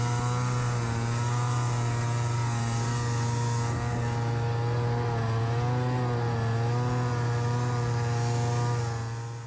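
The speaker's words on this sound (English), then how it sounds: "But then you hear that tinny, monotonous engine and it's a toy again" An Arctic Cat Blast M snowmobile's small, tinny engine drones steadily at one monotonous pitch, loud and close, with a faint wavering whine over the constant hum, climbing a slope in deep powder.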